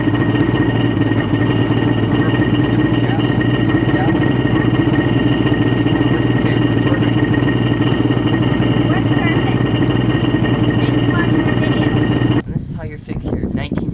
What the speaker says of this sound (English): Okay, so now we're going to try and turn it on.